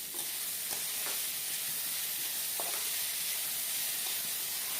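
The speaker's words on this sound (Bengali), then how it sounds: "টমেটোটা দিয়ে দিয়ে আবার খুব ভালো করে লাড়িয়ে চাড়িয়ে আমি ভাজি নেব।" Tomatoes fry in a pan for a potato stew with katla fish head, a constant soft hissing sizzle broken by light taps and scrapes of a spoon stirring.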